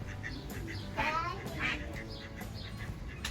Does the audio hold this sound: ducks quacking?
yes